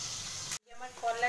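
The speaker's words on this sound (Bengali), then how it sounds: "তাই মাছগুলো ভাজতে বসিয়েছি" Small fish fry in a pan with a soft, continuous hiss and sizzle, cut off briefly and then resuming, while a voice talks faintly nearby.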